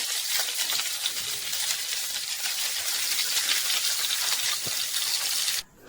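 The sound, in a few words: chicken being shallow fried in a pan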